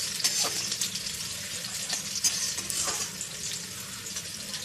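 Small whole okra pods fry with onions in white vegetable oil, a continuous bright sizzle and crackle with occasional stirring scrapes, close and steady with no voices.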